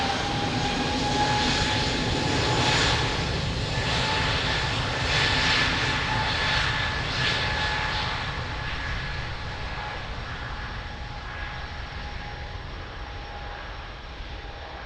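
An airliner takes off from runway 02 at Lisbon Airport, its jet engines roaring loud and steady close by, then slowly fading as the aircraft climbs away.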